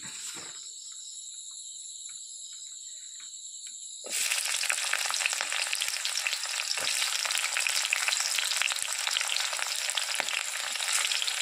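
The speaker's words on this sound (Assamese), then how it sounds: "ইয়াত এতিয়া মই পিঁয়াজ দি দিম" Onions hit hot oil in a kadai. After a few seconds of a thin, quiet hiss, a sudden loud, crackling sizzle bursts up and carries on steadily and close by, with no talking.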